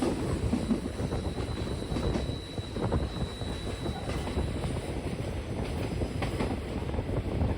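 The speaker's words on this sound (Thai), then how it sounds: "ผมก็พยายามเก็บมุม รถไฟโค้งสวยๆ มาฝากกันให้เต็มอิ่มกันไปเลยก็ว่าได้" Express train 51 climbs a mountain line between Uttaradit and Den Chai with a steady, loud rumble of wheels and carriages, a continuous clatter and faint squeal running through the whole stretch with no talking.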